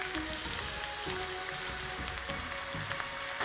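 Vegetables sauté in a hot pan for Chinese fried rice, giving off a continuous, close, crackling sizzle with no voices.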